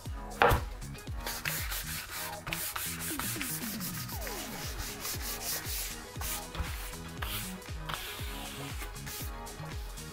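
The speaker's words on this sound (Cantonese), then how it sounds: "咁啊用呢一個粗嘅砂紙磨完之後咧，用幼砂紙啦噃" Fine sandpaper rubs across a wooden chopping board along the grain, following a coarser grit, in steady repeated back-and-forth strokes, close and scratchy, continuing for about ten seconds with no talk.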